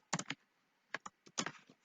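Bursts of computer keyboard typing, a few quick clustered keystrokes, then a pause, then more clicks, close and fairly quiet with no talking.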